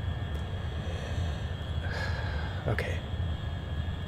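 A steady, broadband roar from a spaceplane's scramjet engine in the space simulator Orbiter 2016 fills the whole clip at an even level, with faint breathy noises and a brief spoken word over it.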